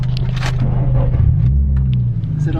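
A Nissan 350Z with a 6-speed manual gearbox has its engine rumbling loud and low at idle close by, the RPM sagging toward a stall, while people talk over it.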